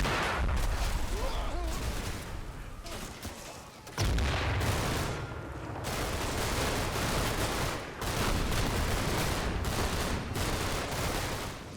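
Dense infantry small-arms fire mixed with 81mm mortar blasts in the Combat Mission wargame, sustained loud crackling volleys with heavy booms through an orchard, continuous and close with no pauses.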